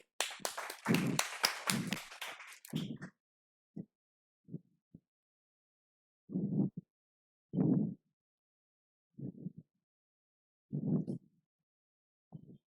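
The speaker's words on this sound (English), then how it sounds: "Bronchius, clap for him" A short burst of quick hand claps from a biology seminar audience opens, followed by several isolated thuds and scattered taps separated by silence.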